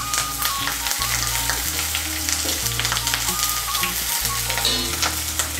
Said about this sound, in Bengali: আদা বাটা, জিরে বাটা আর কাঁচা লঙ্কা বাটাটাকে তেলের সঙ্গে ভালো করে মিশিয়ে নেব